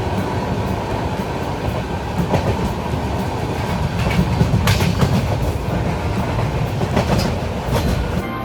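A passenger train on the Vizag to Guwahati route rolls along the rails, heard from inside the carriage as a steady low rumble with rhythmic clacks and rattles, fairly loud and continuous.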